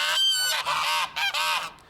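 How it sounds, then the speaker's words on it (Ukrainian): Several loud, nasal honks from two hungry ganders in quick succession, close by, with brief gaps between calls. "це зовсім не віслюк, це просто е, два голодних гусака"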